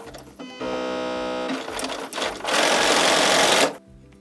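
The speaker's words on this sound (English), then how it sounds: "I'm gonna go ahead and go sew all 4 of these" Sewing machine stitching quilt pieces for a twisted knot block, starting on leader fabric: bursts of steady rapid mechanical whirring, a short run, then a longer louder continuous stretch, close and with no talking.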